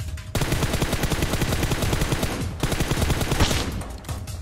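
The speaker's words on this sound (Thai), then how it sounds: "ยิงกันแล้วว่ะยิงกันแล้วว่ะ" Automatic gunfire in PUBG Mobile rattles loud and close in fast, continuous bursts. There is a brief dip near the middle before the rapid shots carry on.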